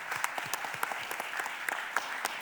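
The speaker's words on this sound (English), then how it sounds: "Let's give him a round of applause, everyone." A modest round of applause at a city council meeting, scattered individual claps that stay fairly quiet and distant in a large chamber, coming in uneven bursts without any speech.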